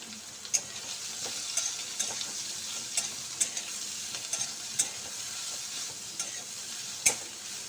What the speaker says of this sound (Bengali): এই সয়াবিনটা আমি ভেজে নেব